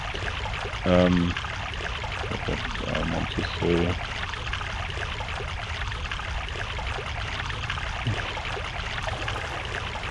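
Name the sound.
flowing water audio in Prince of Persia: The Sands of Time video game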